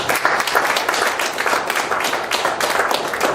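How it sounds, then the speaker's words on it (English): An audience at a marriage seminar bursts into steady applause, dense overlapping claps filling the room at full volume for the whole stretch, with no talk over it. "let's give her a much round of applause"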